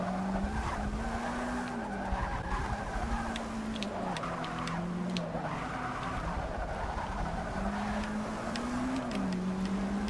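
Audi race car in the Forza Motorsport 6 Apex racing game spinning its tires at a drag-race start, with a steady engine drone and repeated tire squeals and skids running continuously and loudly throughout.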